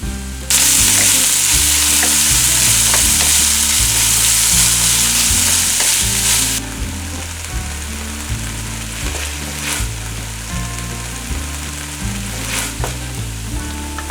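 Onions sizzle loudly in a little olive oil in a pan, a steady bright frying hiss that begins abruptly and eases somewhat partway through, with a low rhythmic pattern running underneath.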